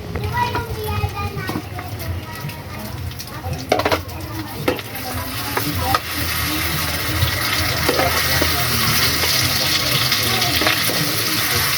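Eggs frying with Argentina-brand corned beef in a home kitchen, a constant sizzle with scraping and stirring sounds, while people talk and children chatter in the background.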